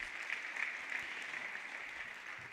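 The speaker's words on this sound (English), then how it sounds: "Can we give him a round of applause?" Steady applause from a national congress audience honoring a guest, a dense even wash of clapping held at moderate distance throughout.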